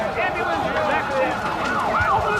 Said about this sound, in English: Let the ambulance in here.